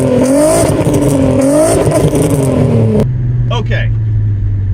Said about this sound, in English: An absolutely gorgeous sounding exhaust, which you're gonna hear an exhaust clip of